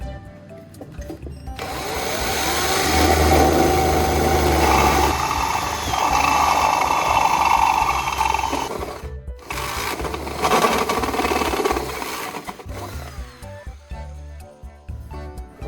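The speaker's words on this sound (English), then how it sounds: "I'll drill carefully to avoid denting or cracking the pot surface." A power drill bores into a metal pot, a steady mechanical whirring grind that runs for several seconds, briefly cuts out, then resumes before winding down, close and fairly loud.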